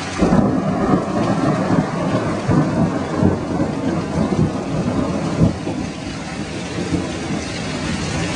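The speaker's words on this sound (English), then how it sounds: "beautiful sound of thunder in the distance, little lightning. I love thunder." Distant thunder rumbles low and rolling beneath steady rain, with occasional heavier swells and no voices.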